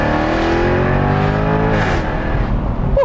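A 2021 Jaguar F-Type R with its 575-horsepower engine revs hard, its loud exhaust note rising in pitch and then dropping off as the revs fall, close and steady throughout.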